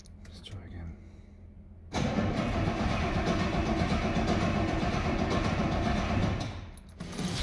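A Ford Transit van's V8 engine abruptly bursts to life and runs loudly with a rough, steady roar for several seconds before dying down.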